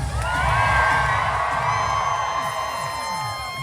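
Party crowd aboard the Carnival Freedom cruise ship at a sail-away deck party screams and cheers loudly and continuously, a dense mass of high voices and whoops sustained throughout over a thumping low beat.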